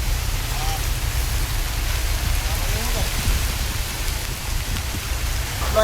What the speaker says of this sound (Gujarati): આજ જો વરસાદ એટલે ખતરનાક છે અત્યારે.